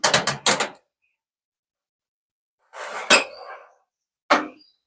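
A metal tray of peanut biscuits goes into a preheated home oven and the door is shut, making a few short, sharp clanks separated by stretches of silence.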